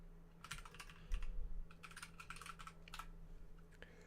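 Keystrokes clatter on a computer keyboard in quick, irregular bursts, soft and close, with brief pauses between runs of typing over a faint steady hum.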